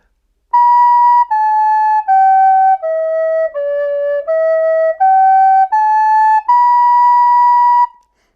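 A recorder plays a slow scale from high to low and back up again, nine clear sustained notes with short breaks between them, close and alone with no talking.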